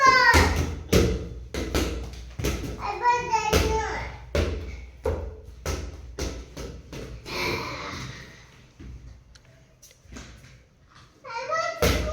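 A ball bounces repeatedly with sharp, irregular thuds, sometimes quick and sometimes spaced out, while someone talks and laughs nearby.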